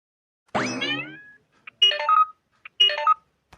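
A springy boing, then a short electronic phone ringtone melody plays twice in quick succession, bright and close, with quiet gaps in between.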